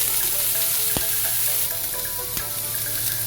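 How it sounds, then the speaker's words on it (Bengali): Steady sizzling of eggplant slices frying in hot oil, with a couple of sharp clinks from a utensil against the pan. "লাল করে বেগুনটা ভেজে দিয়ে রাখছি"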